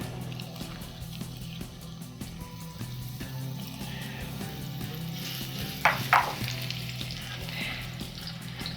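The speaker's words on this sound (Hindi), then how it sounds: "और यहाँ पर मैं इसके अंदर ये प्याज ऐड कर रही हूँ" Chopped onion frying in about a quarter cup of cooking oil for tomato chutney, a steady low sizzle throughout with a couple of brief sharper crackles near the middle.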